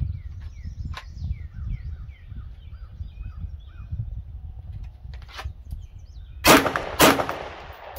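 Two sharp, loud Glock pistol shots ring out close together near the end, around a second apart, following a stretch of low rumble with faint bird-like chirps in the background.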